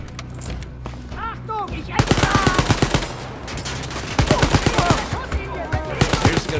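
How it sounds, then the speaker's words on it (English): Rapid automatic gunfire from incendiary rounds in the shooter game Wolfenstein Youngblood, loud bursts of closely spaced shots with echoing thuds. The bursts repeat over the whole stretch, with in-game sounds in between. "notice my bullets are on fire now, because apparently I've just got incendiary rounds"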